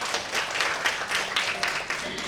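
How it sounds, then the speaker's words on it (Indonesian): An audience at a Sundanese dance revitalization workshop closing ceremony claps steadily in a sustained round of applause, moderately loud and continuous throughout. "kasih tepuk tangan dulu dong"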